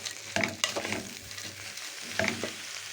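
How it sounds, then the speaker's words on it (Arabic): Chopped chicken livers and gizzards are stirred in a pot, with a few sharp scraping clatters of the spoon over a soft sizzle. The sounds come close and moderately quiet, with no talking. "مسكت بقى الكبد والقوانص بتاعتي. تمام. قطعتها بالشكل ده اهو وهديها برضو تقليبه حلوه كده"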